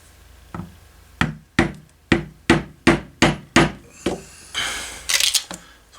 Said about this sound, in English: I can use that to line up my punch to make the rest of my holes